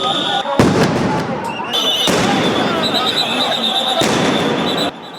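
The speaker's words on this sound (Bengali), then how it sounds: "একের পর এক সাউন্ড গ্রেনেড," Police sound grenades go off one after another at a government employees' pay-scale protest near Jamuna, a string of loud, close, sharp blasts with a crowd shouting between them.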